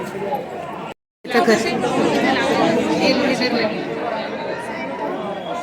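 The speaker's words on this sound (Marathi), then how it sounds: "संकष्टी आहे तरी गर्दी आहे" A dense crowd chatters at the Mahalakshmi temple on a Sankashti day, many overlapping voices in a steady, close murmur broken by a brief silent gap near the start.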